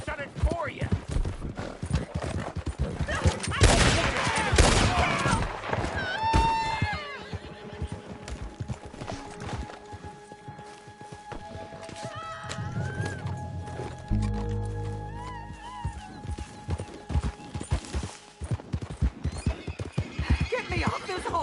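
A horse in a PS4 video game clip-clops with steady hoofbeats and gives a few whinnying neighs, under nearly constant character dialogue.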